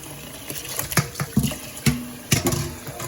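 Fresh tap water is poured into a pot to boil pig tails a second time, heard as close, uneven splashing bursts and gurgles that rise and fall over a few seconds, with no voices.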